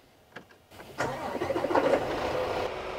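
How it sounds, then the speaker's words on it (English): A truck with an air brake system cranks and fires up after a brief starter whir, then settles into a steady, close diesel idle with a slight rev as it catches. "So the first thing we're gonna do is go ahead and start the truck up."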